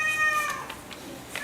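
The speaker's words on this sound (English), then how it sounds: "That's my cat coming in." A pet cat meows as it comes into the room, a clear high call early on, followed by faint rustling and soft household noises.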